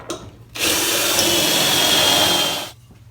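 A power drill bores pocket screw holes into wooden cabinet stiles, giving one close, loud, steady whine that lasts about two seconds before stopping.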